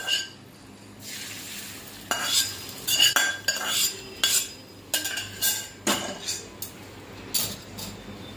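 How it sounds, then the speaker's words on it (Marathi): Fried tempering poured over soaked poha and mixed in, a quick run of spoon-on-bowl clinks and scrapes with a faint sizzle, close and fairly loud with no talking. "ही जी फोडणी केलेली आहे ती आपण याच्यावरती ओतून घ्यायची आहे"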